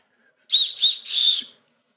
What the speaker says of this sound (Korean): 그리고 오른쪽에는 비상용 호루라기가 있습니다.